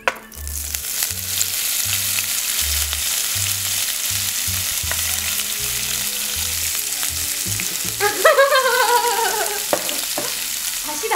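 Eggs frying for Korean fried eggs sizzle steadily in a frying pan, close and loud throughout, with a few scraping or clinking kitchen sounds near the end and no talking.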